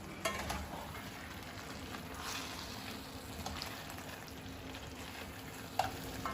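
Chicken for Chicken 65 biriyani fries in a pan, giving a faint, steady sizzle with a few soft stirring knocks, alone without talk.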